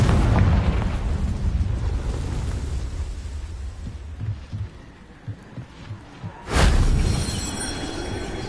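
A Confringo explosion spell goes off in Hogwarts Legacy, a deep rumbling rush that thins into scattered soft thumps before a sudden loud blast bursts near the end and then booms on.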